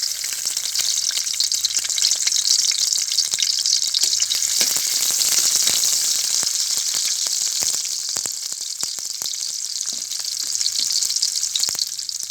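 Chopped onion frying in hot oil in a wok gives a loud, steady sizzle that runs unbroken throughout, with a few faint stirring clicks and no talk.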